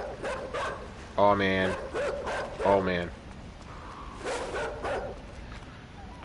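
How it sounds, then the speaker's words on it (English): Dog barking in the video game INSIDE, two loud close bursts of rapid barks followed by fainter growling, as a player briefly talks over the action. "that dog is not playing around"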